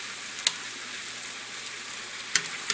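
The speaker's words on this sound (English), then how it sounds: "we're just going to add the wrappers to the oil" Egg roll wrappers frying in hot oil give a continuous, even crackling sizzle up close, broken by two brief sharp pops, with no talking.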